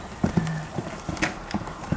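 Horse hooves clip-clop at a yard, a series of uneven sharp knocks close by with a faint background hiss.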